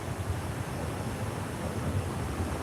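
Big raindrops fall heavily at a railway trackside, making a dense, continuous hiss and patter that stays loud and steady throughout.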